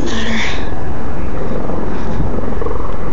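A police helicopter flies over a search during a Simi Valley pursuit, its loud, steady engine and rotor drone filling the recording, which is heavily clipped and close.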